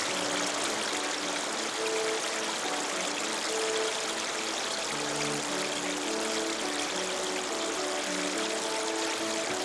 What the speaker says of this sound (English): Many beautiful fountains adorn the gardens.